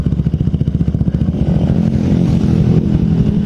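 A 2019 Honda Beat motorcycle with a good battery started on its starter: rapid rhythmic cranking pulses for about a second, then the engine catches and runs with a loud, close, even putter.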